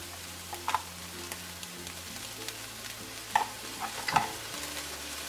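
Ground turkey, softened onions and minced garlic cooking in a pan, giving a steady low sizzle with a few sharp scrapes and clatters of stirring spread through, no talking.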